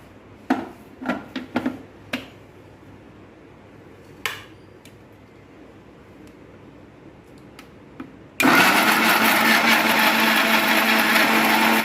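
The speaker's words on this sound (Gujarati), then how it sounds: "હું હવે એને ચોપ કરીને મિક્સીમાં નાખી દઉં છું અને હવે એને ગ્રાઇન્ડ કરી દઉં છું" After a few scattered clinks and taps of peeled, chopped tomatoes and a jar being set up, a mixer grinder abruptly starts and runs loud and steady, whirring them into puree until the end.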